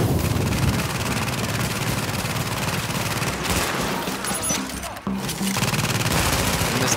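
Sustained rapid turret gunfire from Tom Clancy's The Division, a loud unbroken automatic burst that holds for several seconds with a brief dip near the end, with no voices over it.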